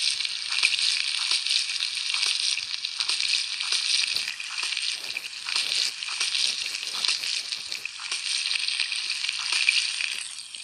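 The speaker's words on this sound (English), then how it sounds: "we need to deep fry them because they look good at deep fried." Noodles deep frying in the Toca Kitchen 2 video game, a steady, loud hissing sizzle that runs continuously with small crackling bursts throughout and no talking.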